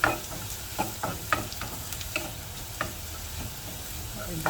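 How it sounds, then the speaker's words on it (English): Garlic fries over medium heat in a pan for a clam dish, giving a steady soft sizzle broken by occasional light clicks and stirring taps, with no voices. "No need to fry until brown. A little bit brown will do."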